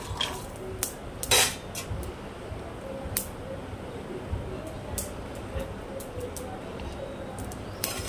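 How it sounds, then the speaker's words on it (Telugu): Metal clinks and scrapes of peanuts being roasted in a kadai on a stove over medium flame, with sharp intermittent clatters over a steady low background. "మీడియం ఫ్లేమ్ లో పెట్టుకొని పల్లీలు దోరగా వేయించుకోవాలి"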